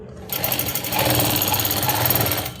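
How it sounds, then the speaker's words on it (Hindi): A sewing machine runs steadily as it stitches a thick seam along a fabric belt, laying down a continuous whirring, rapid mechanical chatter that starts after a brief quiet moment and stays loud and close throughout. "मोटी सिलाई करनी है अपनी मशीन की"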